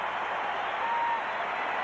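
A basketball arena crowd at a Dream Team versus Cuba game applauds in a steady, even wash of clapping, moderately loud and continuous across the moment.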